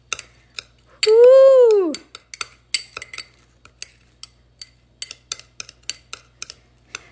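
CND spa manicure product being mixed in a bowl, a utensil clicking and tapping against the sides in a steady, close rhythm, interrupted early by a short excited vocal whoop.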